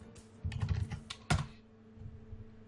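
Typing on a computer keyboard, a short burst of quick key clicks, then a single louder keystroke, then a few faint taps, close and without speech.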